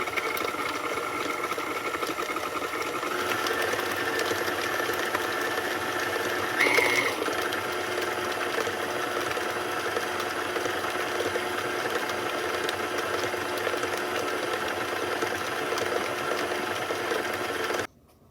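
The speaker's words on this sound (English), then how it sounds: "Put them all in there and mix it in for 1 to 2 minutes until combined." A mixer runs steadily, blending medium-sized bananas into banana cheesecake batter for one to two minutes, a continuous close motor whir lasting throughout with a brief bump partway, then cutting off abruptly at the end.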